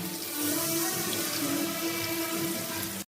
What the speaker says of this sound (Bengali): মশলা খুব ভালো করে কষা হয়ে গেছে, দেখো তেল ছেড়ে দিয়েছে, আমি জল দিয়ে দিলাম।